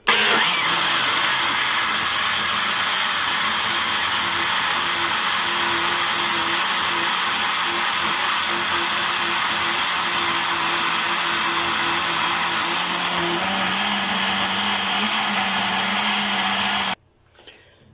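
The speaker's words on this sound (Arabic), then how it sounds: "نطحنوهم في الخلاط الكهربائي." An electric blender grinds herbs and lemon for a juice, a loud, steady motor whirr with a dense grinding roar that runs unbroken for about seventeen seconds, then cuts off abruptly.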